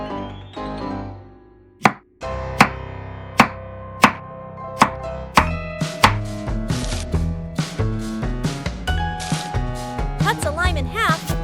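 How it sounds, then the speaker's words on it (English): Knife slicing cabbage in a miniature outdoor cooking scene, sharp separate chops at first then quicker cuts under a light musical backing, close and fairly clear. "Slices cabbage."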